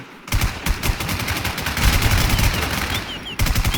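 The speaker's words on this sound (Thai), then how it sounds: "ผมได้ยินเสียงปืน" Rapid automatic gunfire in the online zombie shooter Infestation, loud, dense bursts of shots crackling continuously with a brief break, close and with no talking.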